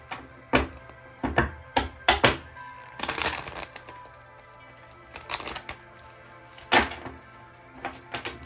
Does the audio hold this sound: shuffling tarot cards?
yes